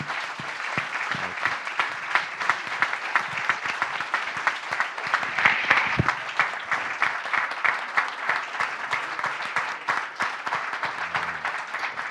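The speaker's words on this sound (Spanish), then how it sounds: "Pero pueden aplaudir, ¿no?" An audience breaks into sustained applause at a talk, dense steady clapping filling the room evenly from start to finish with a faint voice briefly underneath.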